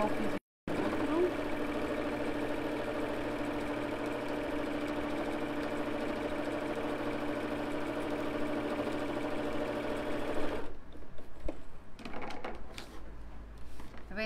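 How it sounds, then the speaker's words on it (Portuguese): A sewing machine stitching and quilting a patchwork placemat runs as a steady, close motor whir for about ten seconds, then stops. A short gap comes near the start, and faint handling noises follow the stop. "vou rebater aquela costura"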